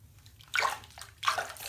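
Bathwater sloshes twice, close by, as a hand moves through a foamy pink bath.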